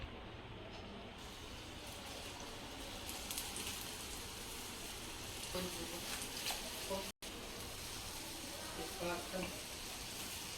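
Mirchi bajji, chilli fritters in gram-flour batter, deep-frying in hot oil as it rains, giving a steady dense sizzle and crackle throughout with a brief break partway through, and no talk heard.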